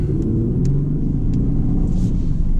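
A 2019 Ford Taurus SHO V6 roars under hard acceleration, giving a steady, loud, close engine rumble throughout with a few faint clicks above it.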